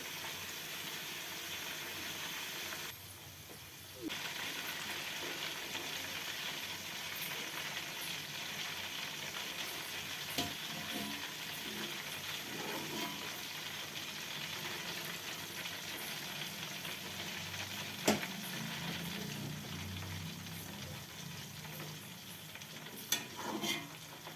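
Ghee heating slowly in a pan, a soft steady sizzle and faint hiss running continuously at low level, with a few brief clinks and stirring scrapes, no talk.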